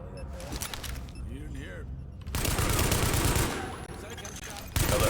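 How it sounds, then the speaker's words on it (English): Gunfire in the video game The Division, rapid automatic bursts and rattling shots that grow denser and louder midway, mixed with game effects and a voice talking early on. "Reporting gunfire in the station above us."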